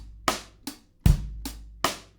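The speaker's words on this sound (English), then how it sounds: "I've got a drum recording here." A recorded natural drum kit plays a sparse groove of sharp, punchy hits with a deep kick landing in the middle, each strike decaying quickly, clear and close with no voices.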